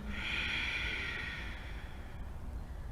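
A soft, drawn-out breath is pushed out through the nose during a slow yoga twist in a vinyasa session, faint and close, with an airy rush that fades toward the end.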